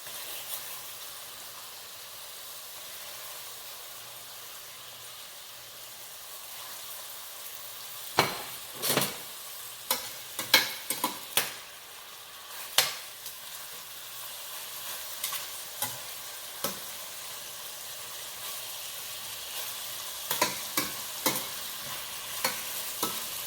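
Salmon and codfish cooking with a little coconut milk, a soft steady simmer under scattered sharp clatters of stirring and utensil knocks against the pot, moderately quiet and close, with no talking.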